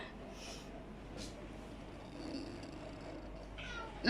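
A pet cat gives a few faint, scattered meows just before being given a bath, with quiet room noise and some soft movement sounds between them.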